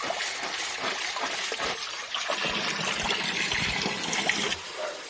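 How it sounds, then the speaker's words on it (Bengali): Cracked jujube berries are washed by hand in water, giving a continuous splashing and trickling with bright sloshes and small knocks throughout, close and fairly loud, with no voices. "তো এটা আমি ভালো করে ধুয়ে নেব"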